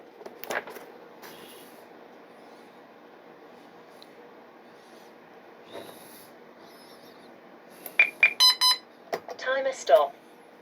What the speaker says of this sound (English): When you hear those 2 single beeps, you're going to pull your throttle down.